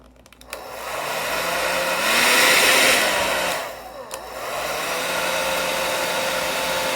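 A repaired hair dryer switched on and running on its cool setting, starting with a click and spinning up into a steady close whoosh of blowing air that swells, dips briefly after another click, then holds steady.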